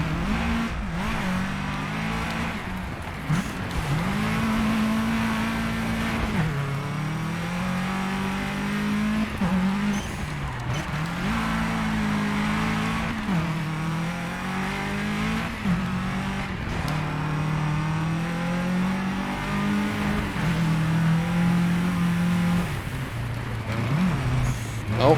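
Race car engines in a three-lap circuit race video game rev steadily and repeatedly. The pitch climbs through gears and drops at each shift, with occasional tire squeal, loud and continuous throughout.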